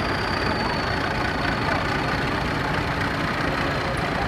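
Two Massey Ferguson 290 tractors pass at a local tractor event, their diesel engines giving a steady, close, rumbling drone with no breaks.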